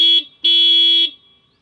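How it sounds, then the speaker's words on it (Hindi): A loud, shrill horn on a TVS Ntorq 125 Race Edition scooter honks twice, a short beep followed by a longer blast, close and clear with no other sounds. "तो इसका हॉर्न देख लो पहले यार"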